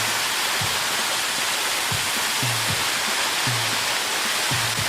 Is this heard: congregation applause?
no